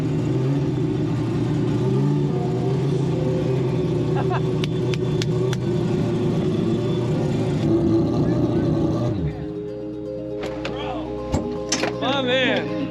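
An AWD four-rotor Mazda RX-7 race car roars at high revs down a drag strip and holds steady for several seconds, then cuts off abruptly, leaving quieter chirps and a few sharp clicks.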